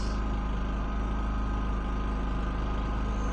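A Predator 5000 portable generator engine runs unloaded at full speed, a loud, steady close-up drone with a low throbbing hum that holds constant throughout.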